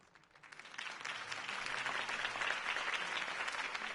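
Applause from a crowd at a political campaign event, a steady wash of many hands clapping that swells over the first second and then holds at a fairly even level.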